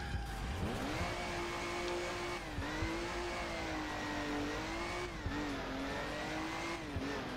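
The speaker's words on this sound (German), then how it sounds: "Jetzt mit Nitro Gas geben" A car in the video game Alarm für Cobra 11 accelerates hard with nitro, its engine roaring continuously near and loud, the pitch climbing and dipping across gear changes, with brief tire squeal.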